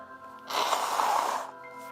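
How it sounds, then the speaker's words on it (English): A single forceful nose blow lasting about a second, close to the microphone, with a quiet room before and after. "be blowing my nose in a live stream"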